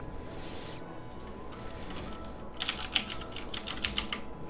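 Typing a router login password on a computer keyboard: a quick run of close, crisp key clicks following quieter background room noise.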